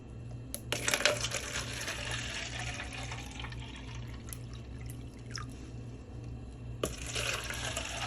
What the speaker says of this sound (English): first we're going to fill each cup with water